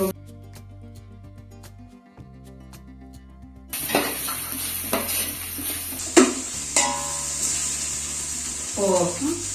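Green chillies dropped into a hot pan for biryani, a sizzle starting about four seconds in with stirring clatter, music playing underneath throughout.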